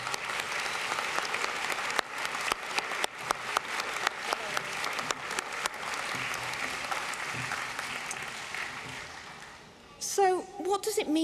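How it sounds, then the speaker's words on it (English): An audience at a university graduation ceremony for nursing and health sciences gives sustained, dense applause that carries on for several seconds, thinning near the end as a voice begins speaking. "I invite you now to show your appreciation with a round of applause."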